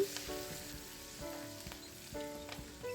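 Fresh curry leaves dropped into moderately hot oil crackle and sizzle in short bursts, with steady frying hiss and a few stirring clatters, close and alone without talk.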